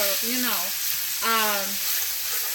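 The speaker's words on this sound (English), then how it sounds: "just kind of stir it around and have it get a little brown" Spices sizzle and fry steadily in a pan as they are stirred, a continuous broadband hiss close by with a voice talking over it.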